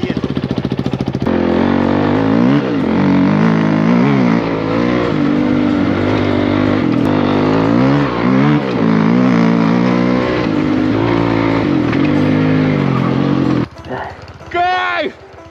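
A motorcycle ridden over ice and snow in a winter race, its engine revving and dropping in pitch loud and close, with voices now and then over the motor.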